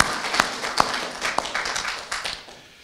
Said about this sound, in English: So we'll just give her a round of applause now so that we don't forget.